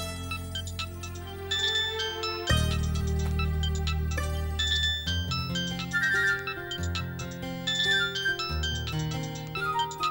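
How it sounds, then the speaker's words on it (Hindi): An incoming call's phone ringtone plays a bright, melodic electronic tune with bell-like tones, repeating its phrases steadily at moderate volume for about ten seconds with no voices over it. "दीदी का फोन आ रहा है ना"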